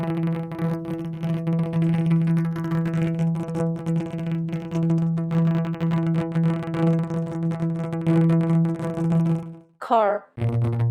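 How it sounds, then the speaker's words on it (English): Spatialized audio rendering of a building region outline from an outdoor street photo: a steady, sustained harmonic drone with a strong low tone and layered overtones, continuous for about nine seconds before breaking off into a short gliding chirp and a brief low tail. "a spatialized audio rendering of the outline of each"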